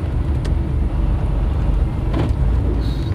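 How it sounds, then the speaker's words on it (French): A car passes on a road after a storm, a broad steady rumble of tyres and engine heard from inside a moving vehicle, with no talk. "Ah, là une voiture."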